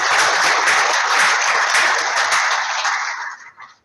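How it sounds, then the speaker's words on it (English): An audience claps for presenters at a virtual business breakfast forum: a dense, steady round of applause that holds strong, then thins and dies away at the end. "if we could have a round of applause for our presenters"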